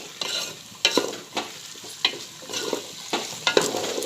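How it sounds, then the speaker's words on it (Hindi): Peas fry in a little oil with onion and tomato as a spoon stirs them in the pan, giving repeated scraping bursts over a soft, continuous sizzle. "हम मटर को प्याज और टमाटर के साथ थोड़ा तेल में भूनेंगे"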